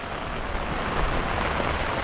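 Very heavy rain from Cyclone Jasper pours down in a dense, unbroken roar, loud and close, with no voices over it.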